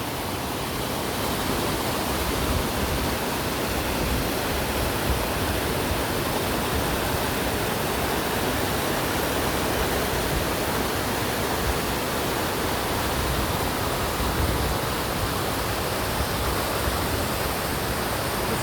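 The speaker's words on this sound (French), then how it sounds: "Alors je suis arrivée à la cascade." A waterfall at Luchon roars steadily and loudly, a dense, unbroken rush of falling water that fills the whole clip.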